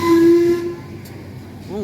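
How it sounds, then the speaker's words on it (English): A steam locomotive whistle of the LMS type gives one loud, steady blast and then cuts off, leaving hissing background noise. A short rising tone follows at the very end. "LMS make lovely whistles just as well as LNER."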